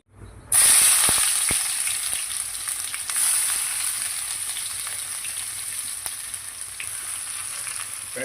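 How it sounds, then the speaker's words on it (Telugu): Bay leaves drop into hot oil in a pan for a spicy chicken curry, setting off a loud, steady hissing sizzle that begins abruptly, swells once more and slowly eases, with no talking. "ఆయిల్ కాగినాకైతే బగారాకు వేసుకోవాలి"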